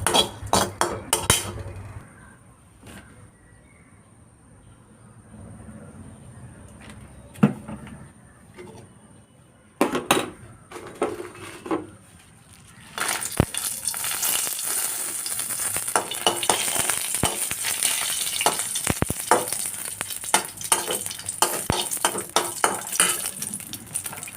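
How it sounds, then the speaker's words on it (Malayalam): Dried red chillies fry in a pan while a shrimp chutney is being made, a quiet start with scattered clinks and taps giving way to a louder, steady crackling sizzle with spoon scrapes, close and without talk. "ഇനി ഉണക്കമുളക് വറുത്തെടുക്കാം"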